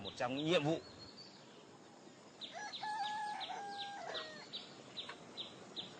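Chicks on a farm peep in a run of short, high, repeated chirps, close and fairly clear, after a brief voice at the start.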